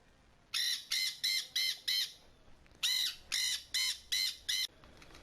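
Birds squawk in two quick bursts, about five and six harsh crow-like caws in even rhythm with a short pause between the runs, loud and close with no talking.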